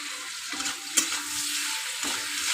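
Pieces of mango frying in a pan with turmeric and salt, stirred now and then: a steady, soft sizzle with a few brief scraping knocks, no voices.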